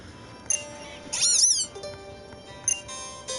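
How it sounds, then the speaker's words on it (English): Litten, the fire-type kitten Pokémon in the game Pokémon Moon, lets out one short, bright synthesized meow over a quiet game soundtrack. "now he just meowed"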